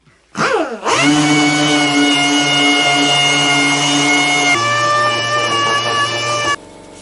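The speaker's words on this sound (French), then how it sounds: "je vais appliquer un coup de 320 à la ponceuse avec le tampon mousse partout" An orbital sander with a foam pad and 320-grit paper sands wood, loud and close with a steady, whining hum. Its tone shifts partway through, then the sound cuts off abruptly.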